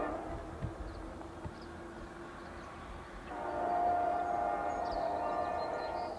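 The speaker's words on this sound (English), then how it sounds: "Listen to the horn one more time." An orange CP freight locomotive passes with a low rail rumble, then lets out a loud, steady horn blast that rings out for the last few seconds.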